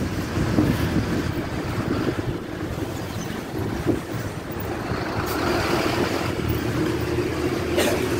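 A city bus in Belo Horizonte cruising past another bus, a steady engine and road rumble with wind buffeting the microphone, no talk.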